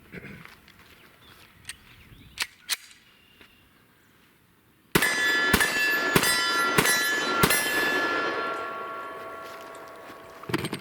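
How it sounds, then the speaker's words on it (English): Five shots from a Glock 29 10mm pistol ring out against steel targets outdoors, loud sharp cracks with metallic pings spaced about a half second apart, a few quieter clicks and handling noises before them. "let's go ahead and shoot 5 from the Glock 29"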